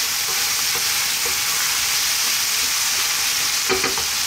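Spices sizzle steadily in a hot pan over high heat for a lamb methi gosht curry, a dense, continuous hiss with faint scrapes as they are stirred, close and without any talk.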